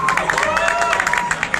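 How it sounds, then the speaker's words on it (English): Audience applause at the Sukkur IBA University 8th convocation, 2022: dense, steady clapping from a large crowd, loud and sustained, with a murmur of cheering voices mixed in. "Round of applause for Memuna"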